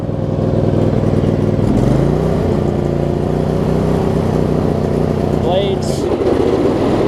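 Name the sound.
John Deere LX279 lawn tractor engine throttling up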